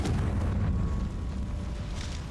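A Confringo explosive spell cast in Hogwarts Legacy, a loud booming blast with a rumbling tail that lingers across the whole short moment.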